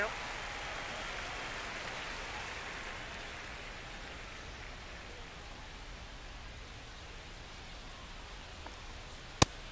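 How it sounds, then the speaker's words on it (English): Rain falls on a baseball field in the MLB The Show 25 video game, making a steady, soft, even hiss that fades slightly over time. A single sharp click sounds near the end. "the field's not going to be able to hold up if the rain gets any worse than this"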